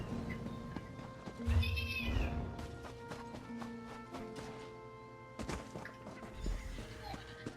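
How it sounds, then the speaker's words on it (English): Cats meowing in the video game The Elder Scrolls Online, a few short mews rising over soft game ambience, with thuds and clatter mixed in, moderately close and not loud. "Are they meowing?"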